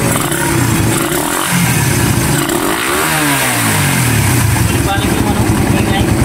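A motorcycle with its compression release and balancer set removed idles loudly and close by, its engine note rough and steady with a slight rising rev in the middle.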